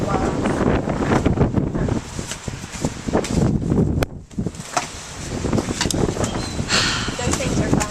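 Strong wind buffets a microphone outdoors with gusty, rumbling bursts that rise and fall throughout, and voices can be heard beneath the blustery noise.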